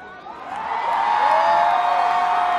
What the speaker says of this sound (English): nothing like screaming girls